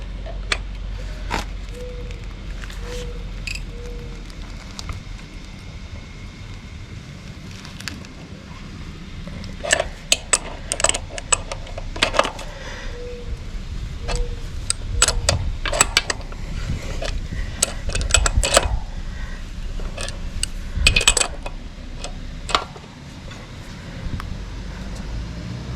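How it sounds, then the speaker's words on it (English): Wrench clicks and metallic creaks come from loosening the rear axle nut on a 2024 Kawasaki Versys X 300 motorcycle, faint intermittent ratcheting over a steady background hum, with sharper bursts in the latter half. "Now loosen this nut."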